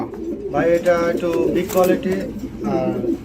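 Large fancy pigeons coo in a few soft, throaty bursts close by, at a pigeon market.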